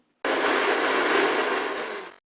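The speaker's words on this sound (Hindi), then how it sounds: "काजू को सबसे पहले मिक्सी में डाल देना है, उन्हें बारीक पीस कर तैयार कर लेना है।" A mixer grinder grinds cashews finely, whirring loudly and steadily for about two seconds, a dense motor roar that starts abruptly and cuts off cleanly, with no voices.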